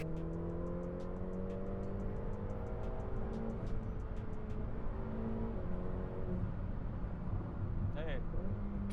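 A Ferrari F8 Tributo sports car engine revs up at full throttle, its rising tone steady and continuous beneath someone talking throughout.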